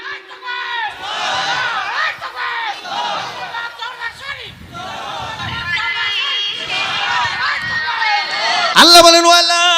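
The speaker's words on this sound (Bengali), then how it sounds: "জোরে বলো নারে তাকবীর।" A large crowd at an Islamic sermon gathering shouts the takbir chant in loud, massed, overlapping voices that rise and fall in waves, with a sharper burst of shouting near the end.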